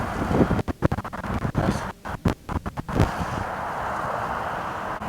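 Strong headwind sweeps across an open golf course, buffeting the microphone in heavy rumbling gusts with brief lulls between them, then settling into a steady roar.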